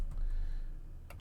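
Computer keyboard typing as values are entered into design software, a short burst of soft key clicks over a steady low background hum, with a sharper click near the end.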